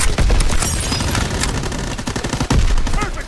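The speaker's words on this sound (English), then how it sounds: "I need covering fire." Loud machine-gun fire from Call of Duty WW2 rattles in fast continuous bursts with a sharp boom near the end, close and dominant over faint game background.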